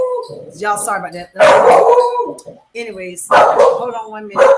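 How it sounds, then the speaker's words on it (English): A dog barks and whines loudly in bursts close by while someone talks over it. "That's the dog."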